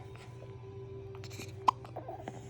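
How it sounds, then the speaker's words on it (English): A baby hiccups once, a short sharp catch over a steady low household hum, with faint background noise around it. "Baby hiccup?"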